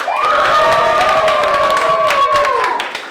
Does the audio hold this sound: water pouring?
no